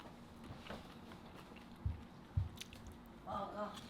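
Close, quiet biting and chewing on squid from Korean cold raw fish soup (mulhoe), with two distinct soft crunchy bites and a brief voice near the end.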